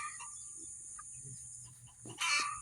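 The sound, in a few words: Moran chicken pullet clucking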